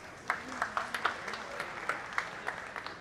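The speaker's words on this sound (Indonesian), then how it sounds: "Tepuk tangan untuk desak Anies." An audience at a public question-and-answer event with Anies Baswedan breaks into applause, scattered claps popping over a low crowd murmur, moderately loud and steady, with a voice speaking faintly underneath.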